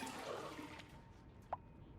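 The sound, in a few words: poo water flowing in Oxygen Not Included video game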